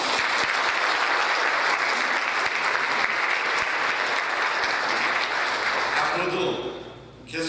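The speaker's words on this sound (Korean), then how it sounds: "박수 한번 해주십시오" Audience at a lecture in Georgia applauding a former Korean unification minister, with dense, sustained clapping from a full room that fades near the end.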